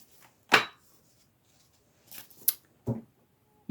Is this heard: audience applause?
no